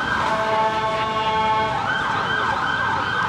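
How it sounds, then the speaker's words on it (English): A police siren wails steadily at a distance in a Parsons Green street, its wavering tone sustained throughout under faint traffic hum. "there's a police siren in the background"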